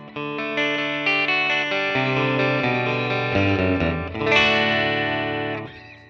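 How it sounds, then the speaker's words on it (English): Electric guitar played through a Fender Mustang modelling amp on its '57 Twin setting with a touch of reverb, a run of clear picked notes and chords ringing out before a final strum decays. "that's through a Fender Mustang modelling amp with a 57 twin model on it and a bit of reverb"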